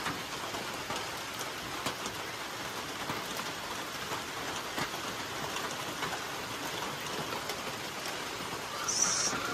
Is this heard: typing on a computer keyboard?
no